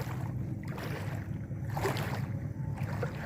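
A boat moves on a river swollen by flooding, giving a steady, rumbling, wash-heavy drone with no clear breaks, close and fairly loud, with no talking.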